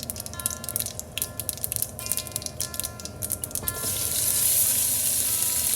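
Onions dropped into hot oil in a pan for Sri Lankan Batticaloa-style mutton curry, with crackling and stirring at first, then a louder, steady hissing sizzle building near the end.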